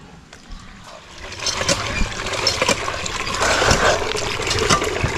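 Water splashes and trickles as sugar palm fruit, kaong, is washed by hand, starting faint and growing to a busy, close sloshing that continues to the end.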